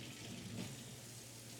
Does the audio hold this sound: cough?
no